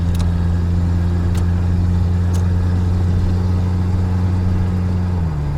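A Ford Ranger pickup truck engine runs at a steady, loud idle, a constant low rumble that dips slightly near the end, with a couple of faint clicks.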